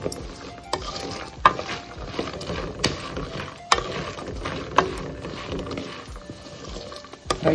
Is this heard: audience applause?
no